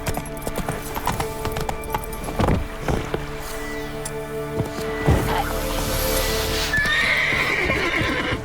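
Roach the horse in The Witcher 3 on Skellige, with hooves clip-clopping in an uneven trot and a loud whinny near the middle, set against rushing ambient game sound.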